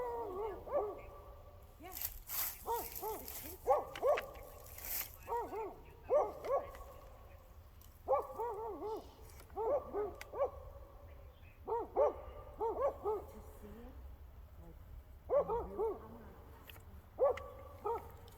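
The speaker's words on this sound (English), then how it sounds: "Listen to those dogs." Repeated bursts of dog barking, several dogs at moderate distance, coming in irregular clusters over a low background hum.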